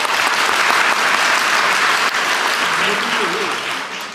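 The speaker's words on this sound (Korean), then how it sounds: "박수 부탁드립니다" A crowd of residents at a public event gives loud, sustained applause as lawmakers come forward. The clapping is dense and continuous for about four seconds, with faint voices underneath as it eases slightly at the end.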